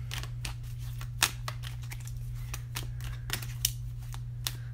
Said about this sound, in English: I'll go ahead and shuffle a fairy dust card for you.